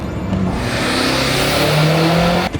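A turbocharged BMW M5 engine holds a loud, steady high-rev drone with rising whine, close and continuous, ending abruptly as the throttle drops.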